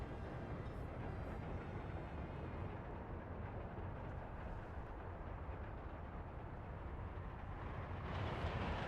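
Train rolling past a signal in the rail-building game Workers and Resources, a steady broadband rumble holding at an even level throughout, brightening slightly near the end, with no talk.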